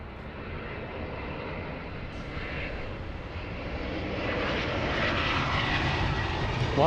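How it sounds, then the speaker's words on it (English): Delta Boeing 767 jet airliner passing overhead, a steady broadband engine roar that swells gradually louder toward the end, with no clear talk over it. "we have a Delta 767 that could head, I think that's heading to Atlanta"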